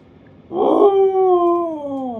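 Dogs howling together in the morning, a rising then slowly falling drawn-out awoo with clear harmonics that starts half a second in and carries on steadily, fairly close and loud.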